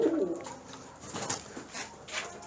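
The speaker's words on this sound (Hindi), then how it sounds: "देखिए सारे पिजन्स यहाँ पे ओपन घूमते हैं" Pigeons coo on an exotic bird farm where they roam openly in the yard, with soft murmuring calls that repeat unevenly against a faint background.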